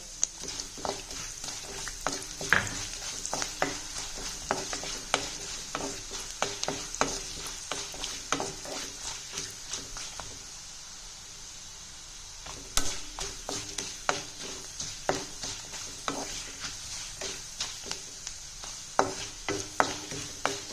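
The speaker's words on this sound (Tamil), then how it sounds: "முந்திரி நல்லா ரோஸ்ட் ஆயிட்டாவே நம்ம போதும், ஆஃப் பண்ணிடலாம்." Cashews and whole cumin roast in a pan for millet pongal, a steady dry sizzle broken by frequent sharp scraping and stirring clicks from a spoon against the pan, close and continuous with no talk.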